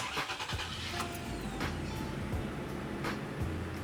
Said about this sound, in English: Go ahead and start your engine for a couple of minutes.